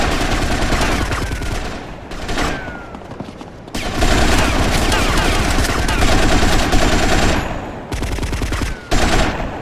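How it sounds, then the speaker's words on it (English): Loud, dense gunfire in GTA: Vice City Stories, with sustained bursts of rapid shots and booms that break off briefly and then resume, mixed with game sounds and voices. "that's right, it's a gun"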